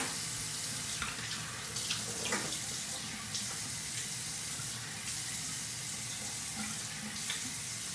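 Cold water runs steadily from a bathroom tap into a sink after shaving, a continuous close hiss and splash with small shifts in flow, no talking.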